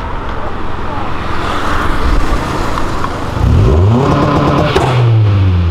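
A Chevrolet Camaro drifting, its engine roaring and rising in pitch through hard revs, loud and close, with crowd noise around it and voices faintly audible underneath.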